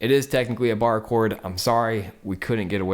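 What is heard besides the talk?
None of the usual background noises is heard.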